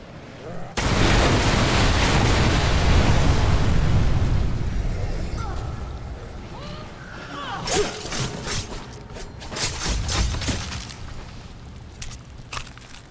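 A mortar firing and its shell exploding in the video game Dead Island 2: a huge sudden boom swells into a long rumbling roar, followed by smaller blasts and crackling debris, with voices talking underneath.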